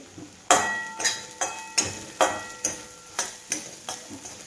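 Green chilies frying in oil in a pan, a close run of about nine sharp sizzling bursts at a regular rhythm as they are stirred and tossed, each fading quickly, with no speech.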